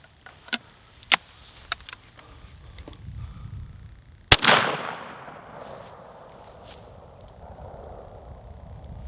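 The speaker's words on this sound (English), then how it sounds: "Now we're going to do some buckshot." A Rossi Survival single-shot firearm fires one loud 410 buckshot blast outdoors, its report decaying into a rumbling tail, after a few sharp clicks of handling.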